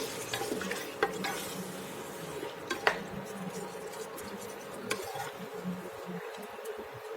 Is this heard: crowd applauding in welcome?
no